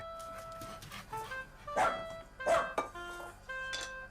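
A pet dog barks in a few short bursts over steady background music, moderately close, with no talking.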